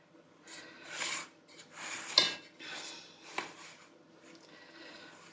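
A spatula scrapes and spreads Victoria sponge cake batter in a baking tin, in several soft rasping strokes with a couple of light clinks against the tin, close and quiet.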